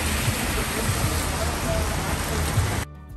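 Steady rain shower falls on a day in Savannah, a dense continuous hiss of drops close by that cuts off abruptly near the end.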